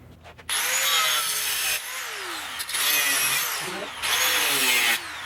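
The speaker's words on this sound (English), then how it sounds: "So I'll just take the cutoff wheel and I'll cut a groove for those teeth to bite into." Three bursts of an abrasive cutoff wheel grinding a groove into metal anchor teeth while finishing a concrete press, each a loud sustained screech lasting about a second and a half, with brief pauses and the wheel winding down between cuts.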